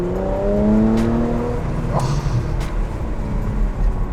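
A Porsche Macan GTS engine revving and pulling through gears on a downtown street, a loud, close, rising drone with several climbing pitch sweeps and a brief voice exclamation.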